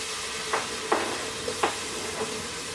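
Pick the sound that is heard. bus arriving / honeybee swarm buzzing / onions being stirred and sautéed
onions being stirred and sautéed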